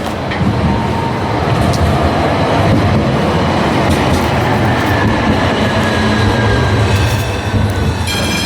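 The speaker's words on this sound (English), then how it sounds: "I thought that was my tram" A tram in Krakow, Poland rumbles past close by, loud and continuous, with rail screeches and metallic clatter toward the end.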